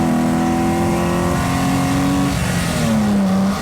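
An E46 BMW 330i with an SMG gearbox accelerates hard in a launch test, the engine loud and close as it revs up, drops briefly at a gear change and climbs again.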